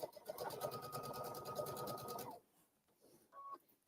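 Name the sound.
sewing machine stitching a line on fabric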